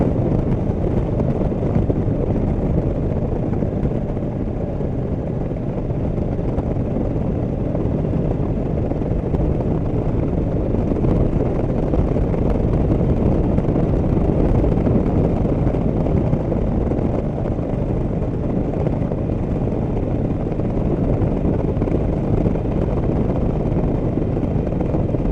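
Steady, loud broadband roar of wind rushing past while riding a Harley-Davidson XL883L Superlow Sportster motorcycle, a continuous low rumble that stays constant throughout with no speech.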